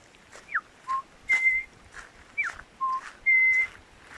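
A person whistles an imitation of a New Zealand tui's call outdoors in bush, a series of short pure rising and sliding notes with clicks and pauses between them, fairly close and clear over quiet background.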